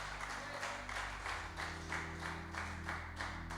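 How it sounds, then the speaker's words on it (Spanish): Congregation applauding during a church service, a soft steady wash of many hands clapping, somewhat distant and faint, over a sustained low hum of instrumental music. "Denle un gran aplauso al Señor"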